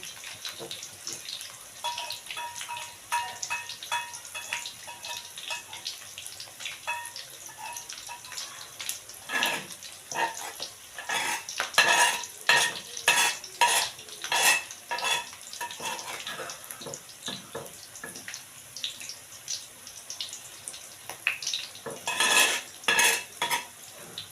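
Ground spice paste is stirred into sautéed onions in a pan, with repeated scraping and clinking of a utensil against metal over a soft sizzle, close and irregular in rhythm.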